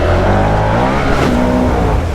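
A Can-Am off-road vehicle's engine revs out hard while airborne off a small jump in four-wheel-drive low, a loud, continuous high-rpm roar filling the whole moment.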